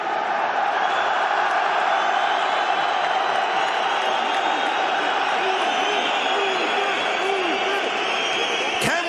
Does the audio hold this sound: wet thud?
no